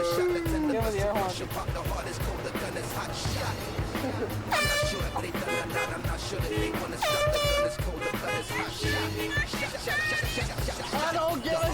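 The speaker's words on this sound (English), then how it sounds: "Give me the air horn." Loud air horn blasts go off again and again amid shouting voices, long blaring honks with brief gaps between them, close and overpowering.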